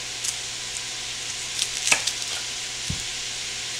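Ground meat browns in a pan over medium-high heat, giving a steady, fairly soft hiss of frying with a few small pops and one brief low knock.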